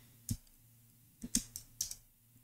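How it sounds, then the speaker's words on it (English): Sparse keystrokes on a computer keyboard during a network configuration lab, a handful of quiet clicks at close range over a low background hum. "So let me type myself."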